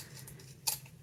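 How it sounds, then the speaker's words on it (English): Scissors snip once, cutting off the ends of a ribbon, a single sharp close cut in a quiet room. "I'm just going to snip off the ends of the"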